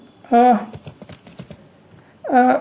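Python code being typed on a computer keyboard, a quick patter of light key clicks between stretches of someone speaking, close and clear.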